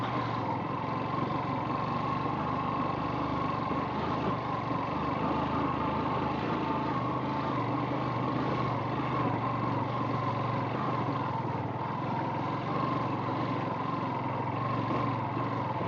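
Lightweight off-road motorcycle engine running steadily on a trail, a continuous buzzing drone at constant level throughout with no voices.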